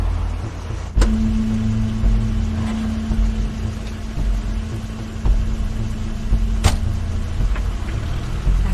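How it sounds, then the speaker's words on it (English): A car pulls up in The Wolf Among Us video game, a steady low engine rumble with a faint humming tone, broken by a few sharp clicks and thuds, heard alone with no talk. "Crane's car."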